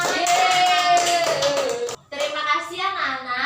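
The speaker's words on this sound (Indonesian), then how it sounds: "Beri tepuk tangan." Children in a classroom clap together, a dense patter of hands mixed with lively young voices calling out, steady and close for a few seconds with one brief dip partway through.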